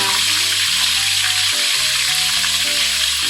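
A whole large tilapia fries in a modest amount of oil in a pan, giving a steady, loud, continuous sizzle and crackle throughout with no talking.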